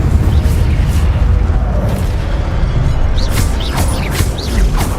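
Fiery spell bursts and whooshing blasts from a Harry Potter wizarding game, cast repeatedly in combat over steady rumbling ambience, with sharp sweeping flares near the end.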